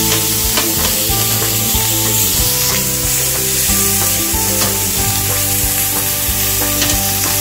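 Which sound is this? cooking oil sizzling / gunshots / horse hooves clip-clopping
cooking oil sizzling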